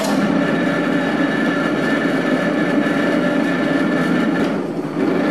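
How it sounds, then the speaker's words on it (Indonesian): Dough mixer machine running with bread dough for soft Dutch-style bluder bread at a home bakery, giving a loud, steady, continuous mechanical whir with no pauses. "Oke, ini saya nyalakan dulu mesinnya."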